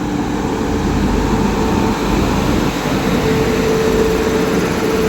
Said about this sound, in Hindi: ट्रेन आ गई भाई ओवरटेक करने।